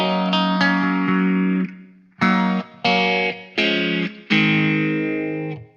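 Electric guitar chords played through a phaser pedal into a Friedman Runt 50 amp, five loud strummed chords with gaps, sweeping swirl and short ring-outs, no talking.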